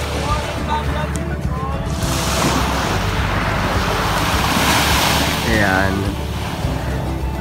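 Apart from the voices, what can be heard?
ocean waves on a beach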